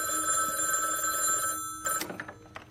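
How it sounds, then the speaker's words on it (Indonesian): A house telephone rings in a film scene, its bell tone steady through the first half before cutting off, followed by a few brief knocks and thumps. "tiba-tiba telepon di dalam rumah itu berdering."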